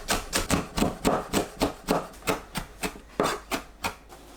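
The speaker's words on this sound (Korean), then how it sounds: "파와 청양고추를 잘게 썰어서 준비합니다." Green onion and cheongyang chili peppers being finely chopped with a knife on a cutting board, a steady run of about sixteen crisp, close chops in an even rhythm.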